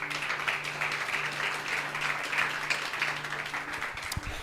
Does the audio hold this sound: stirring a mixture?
no